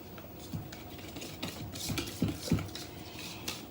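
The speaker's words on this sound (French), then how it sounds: "Et je mélange à nouveau." Faint spoon scraping and clinking around a bowl while gingerbread batter is stirred, a few quiet irregular knocks and soft rasping strokes spread across the moment.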